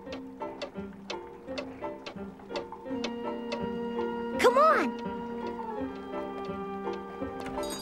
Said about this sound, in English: Look at all those clocks!